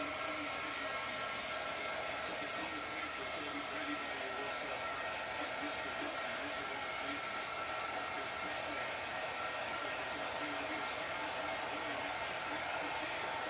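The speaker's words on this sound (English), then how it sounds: "got my heat gun plugged up and ready to roll" Heat gun blowing hot air over a spinning cup, a constant loud rushing hiss with a faint motor hum underneath, steady throughout with no talking.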